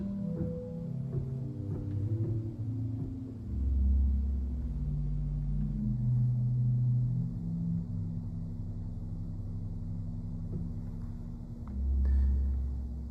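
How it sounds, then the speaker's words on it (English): Low, weighty tones from a 16-foot Bourdon pedal stop on a church chancel pipe organ, sustained deep notes that shift slowly in pitch and swell in a quiet room. "Lastly is one stop in the chancel pedal that we added, and it's a 16-foot Borden"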